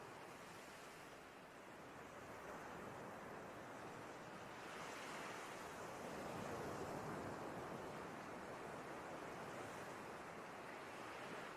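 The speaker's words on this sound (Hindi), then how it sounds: "बस यह आनंद लेते हुए लहरों का पैरों पर आना और फिर लौट जाना" Ocean waves washing up over bare feet and drawing back on a beach, a steady broadband surf wash with gentle swells in intensity, close and continuous, with some wind in the background and no talking.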